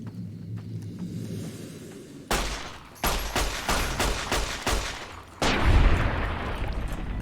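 Pistol fire in Fallout: New Vegas comes as several loud, sharp shots in irregular bursts, each with a short echoing tail, and no talk is heard.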